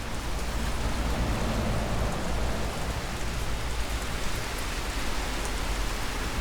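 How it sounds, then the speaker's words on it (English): Steady rain falling and splashing onto objects, a dense, even hiss of droplets throughout with no pauses, moderately loud and close. "how to make actual rain that hits your objects and splashes"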